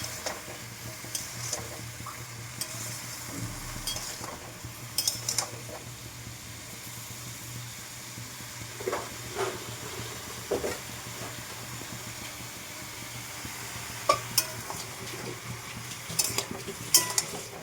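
Dried shrimp cooks with mixed vegetables and chili powder in a pan, with a faint steady sizzle beneath scattered scraping stirs and clinks of a utensil against the pan, over a low constant background hum.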